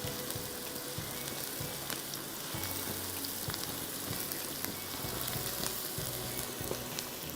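Onions frying in a pan until golden, a steady dense sizzle and crackle that runs without a break from start to end, close and even, with no voices.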